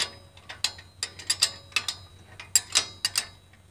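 Ratchet wrench turning a bolt, a series of sharp, close metallic clicks in uneven bursts, loud and crisp with no voices.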